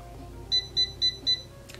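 A Chi Air Spin and Curl hair curler gives four short, evenly spaced electronic beeps, clear and close over a quiet background hum.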